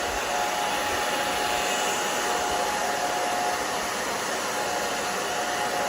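A blow dryer drying the back of a freshly cut layered bob, a steady, loud, close whooshing roar that holds without a break and has no voices over it.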